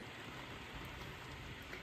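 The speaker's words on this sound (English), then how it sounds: "Just a little bit of rain. I had my window open." Light rain heard through an open window, a faint, even hiss of steady drizzle with no voices.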